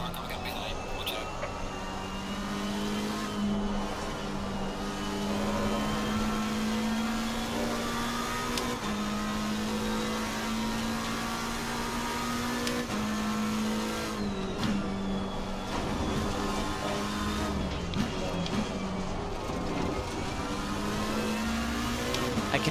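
Simulated race car engines at Suzuka in Assetto Corsa Competizione during an endurance race, with a close, steady high-revving drone that climbs and drops at several gear shifts, plus occasional tire noise, lasting throughout.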